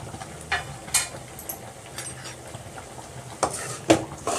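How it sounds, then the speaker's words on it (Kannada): Mushrooms fry with turmeric and salt in a pan, a faint steady sizzle broken by a few sharp scrapes and clinks of a spoon stirring against the metal, with no talking. "ಇದನ್ನೆಲ್ಲ ಸ್ವಲ್ಪ ಈ ಥರ ಫ್ರೈ ಮಾಡಿಕೊಂಡು ಫ್ರೈ ಆಗ್ತೈತಲ್ಲ"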